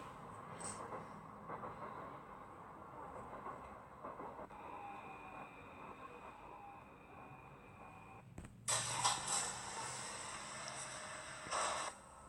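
A Paris Métro line 5 train in the Paris Métro Simulator video game arrives at a station: a faint rolling rumble and clatter with a whining drive tone slowing down, then a burst of hissing brake or door noise near the end.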